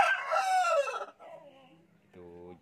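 A rooster crows loudly and close by, one long strained call that trails off, followed by a short clucking sound at the end.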